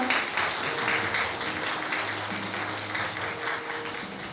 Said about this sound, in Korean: 여러분 다시 한번 축하의 박수 부탁드립니다.